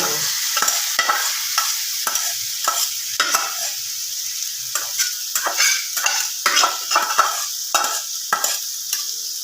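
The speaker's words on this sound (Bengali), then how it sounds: "তেলে দেওয়ার দু এক মিনিটের মধ্যে আমি ম্যারিনেট করা চিকেনটা দিয়ে" Marinated chicken frying in hot oil gives a steady, close sizzle, broken by repeated scraping stirs of a utensil against the pan all the way through, with no talking.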